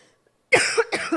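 A single sharp cough after a short silence, followed by a second softer cough, close and loud.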